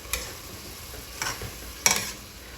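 Philly cheesesteak filling stirred in a hot pan: three distinct scraping, clattering stir strokes over a faint background sizzle.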